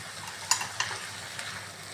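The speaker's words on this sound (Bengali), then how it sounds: "ঝিঙেটা মোটামুটি ভাজাই হয়েছে, ভাজছি একটু ভালো করে" Ridge gourd frying in a pan for a vegetarian mung dal dish gives a steady soft sizzle, with two sharp scrape-clicks of stirring near the start and a lighter one later, up close and without talk.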